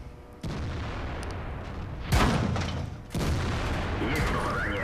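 Heavy artillery booms in the World of Tanks video game, two loud blasts a second apart over a dense rumble of battle noise.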